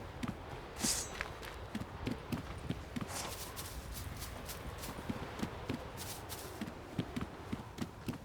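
Horse hooves clip-clop at a steady walking pace in the video game The Witcher 3, crisp and close, with a faint rustle of movement around them.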